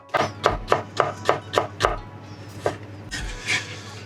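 A knife slices thinly through a dry onion on a cutting board in a quick, even series of about ten crisp chops, then a final scraping sweep.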